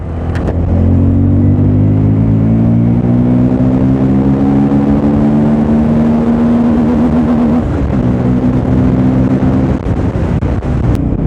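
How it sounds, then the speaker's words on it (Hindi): A Bajaj Pulsar N250 motorcycle engine, one with a misfiring problem at about 12,000 km, revs hard and holds at high RPM as a loud, steady drone with climbing harmonics. It runs throughout without a break and no one speaks over it. "अभी इसको हाई RPM पे भी लेकर जाने वाला हूँ मैं"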